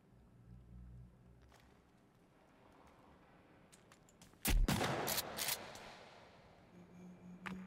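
Gunshots in the game Sons of the Forest crack out in a sharp burst of a few close, loud reports inside a cave, followed by fading echoes and quiet game ambience.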